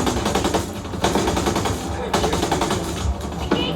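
Sustained machine gun bursts in the shooter video game Ghost Recon Breakpoint, loud rapid fire broken by short pauses, close and dense.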